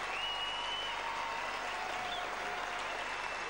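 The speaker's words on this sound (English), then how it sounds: "a good round of applause there" Steady applause from an arena crowd at a 1993 men's pommel horse final after a routine ends in a secure landing, a dense continuous wash of clapping with no breaks.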